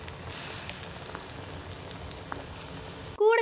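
White sardine curry with sour mango simmers in a pot, giving a soft steady bubbling and gentle patter at close range, ending in a brief louder clatter.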